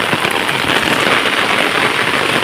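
Steady, loud rain pours down close by in a dense, even hiss with faint crackling patter on surfaces, continuous with no pauses and no voices.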